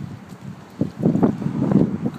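Strong outdoor wind buffets the microphone in low, rumbling gusts that swell and surge, growing heavier after the first second and staying loud to the end.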